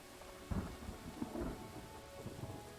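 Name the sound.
rain and thunder in video game Pathfinder: Wrath of the Righteous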